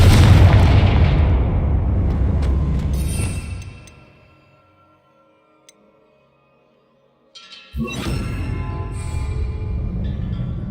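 Confringo blasting spell in the Hogwarts Legacy video game, a loud booming explosion that rumbles and fades over about four seconds, followed by silence and then a second heavy roaring burst.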